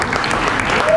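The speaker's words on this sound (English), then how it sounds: "Please give them a round of applause." Audience applause for a cultural performance at a Lagos international theatre festival, a dense steady clatter of clapping that fills the whole second at close, even loudness.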